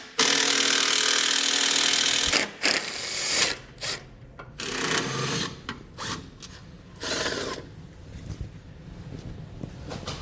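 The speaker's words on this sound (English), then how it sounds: "We're going to start with our 14mm head bolts, and we're going to remove 4 on each side." A power tool spins off the 14mm bumper bolts on a 2017 Honda Civic in a long loud burst, then shorter whirring runs mixed with clanks and rattles of tools and parts, close up without talk.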